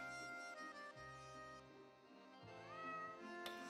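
A cat meows in a cat food advert, giving several clear, close, drawn-out meows with rising and falling pitch against a quiet background.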